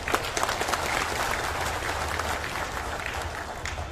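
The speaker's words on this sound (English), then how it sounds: "That calls for a big round of applause." Large crowd applauding at a Trinamool Congress political rally on an outdoor playground in Tura, a broad, continuous roar of clapping heard from a distance with a low rumble beneath.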